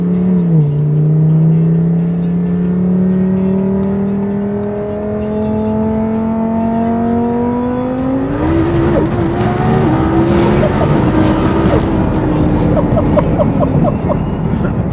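A twin-turbo Audi R8 engine revs hard and loud up close, pitch climbing steadily over several seconds before breaking into rough, crackling high-rpm roar and wheelspin-like noise; no talk.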